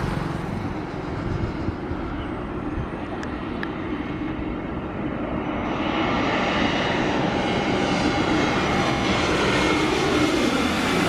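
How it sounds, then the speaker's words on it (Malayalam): A passenger jet landing at Kochi airport, heard from inside the cabin as a loud, continuous roar of engine and airflow that swells slightly partway through, with no talking. "അങ്ങനെ നമ്മൾ ഫ്ലൈറ്റ് ലാൻഡ് ആയിരിക്കുകയാണ്."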